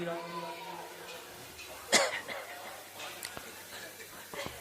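A single sharp cough rings out at a Bhagavata katha religious discourse, moderately near and brief, with faint background murmur and smaller throat sounds after it.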